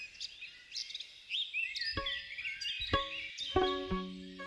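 Bluebirds chirp and sing in overlapping bursts of high, twittering notes, with a few sharper, louder calls standing out close by against a quiet background.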